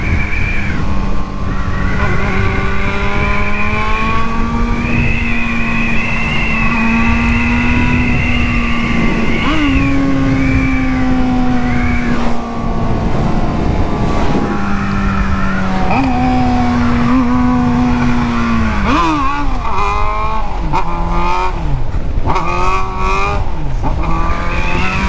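A motorcycle revving hard during a wheelie on a street, its loud, close engine rising and falling in pitch through repeated gear changes and throttle blips, with some faint talk.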